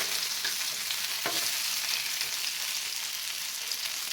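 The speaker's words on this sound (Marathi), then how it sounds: "आता मी इथे हे रोल पलटी करून बघत आहे" Cabbage-leaf rolls shallow-fry in a pan, giving a soft, steady sizzle with a faint clatter as they are flipped partway through, quiet and close with no voices.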